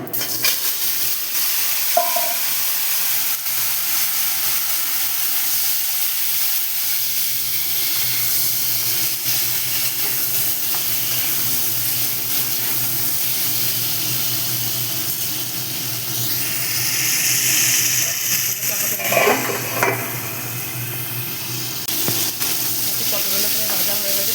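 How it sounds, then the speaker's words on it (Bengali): Pieces of pointed gourd (potol) frying in oil, a steady broad hiss and sizzle running the whole time, swelling louder for a stretch near the end with some stirring scrapes. "পটলগুলো আমি এই একইভাবে এই তেলে পটলগুলো ভেজে নেব"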